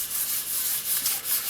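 Sandpaper is rubbed wet over the camo-painted body of a Peavey Patriot guitar in steady back-and-forth strokes, a close, hissing scrub repeating several times.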